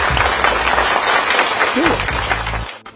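Audience applause for Jodie after a magic trick, a dense steady wash of clapping that holds for nearly three seconds, with a brief voice breaking through near the end before it cuts off.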